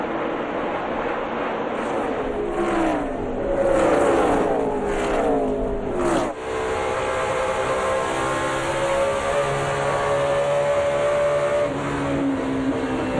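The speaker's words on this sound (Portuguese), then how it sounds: "Aqui vinha o carro de Kyle Busch segurando ou perseguindo, digamos assim, a Jimmie Johnson" NASCAR stock cars racing at Texas in 2008, a loud continuous engine roar with rising and falling pitch as cars sweep past, one sharp dip midway, then a steady sustained drone.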